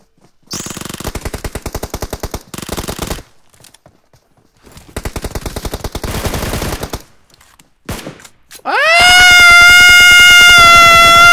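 Rapid automatic gunfire from a video game weapon, several loud bursts separated by short pauses, followed by a sustained high tonal whine at the end; no talk over it.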